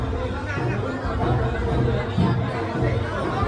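Crowd of devotees packed inside a Ganesh temple during darshan, a steady murmur of many overlapping voices and chatter filling the space at close range without pause.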